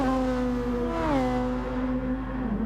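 Formula One race cars from 1997 in Gran Turismo Sport scream past with a sustained high-revving engine whine, the pitch sliding down as one car shifts and a second engine tone overlapping underneath.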